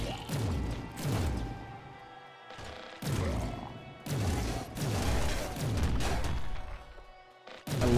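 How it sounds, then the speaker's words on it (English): In the video game Nuclear Throne, a thrown car smashes into an enemy amid a run of loud, close crashing impacts and booming hits that repeat every second or so, with game music and effects around them. "will he just throw the car point blank range at that guy?"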